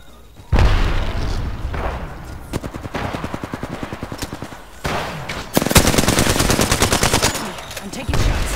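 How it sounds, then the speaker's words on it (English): Automatic gunfire in the shooter game Apex Legends, loud sustained bursts of rapid shots with sharp single reports and booming impacts between them. "Opening fire on the enemy."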